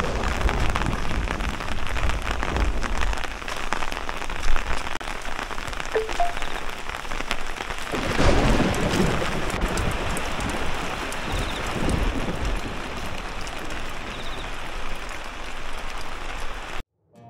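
Heavy monsoon rain falls steadily in Darjeeling, a dense, continuous hiss of drops on surfaces with gusts of wind, loud and close throughout with no one speaking.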